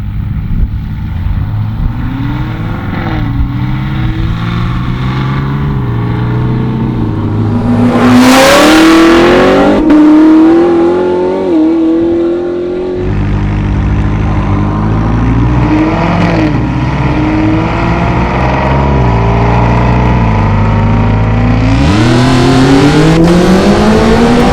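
A Camaro ZL1 1LE with a 6.2-liter supercharged V8 street races a 700 hp McLaren 600LT twin-turbo V8, engines roaring loud and close through repeated hard accelerations and upshifts, with a sharp high burst midway.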